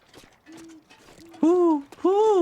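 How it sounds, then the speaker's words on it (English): Two long, wavering owl hoots from The Long Dark video game ring out after quieter tonal murmurs, loud and close, each sliding in pitch. "whoo, says the owl."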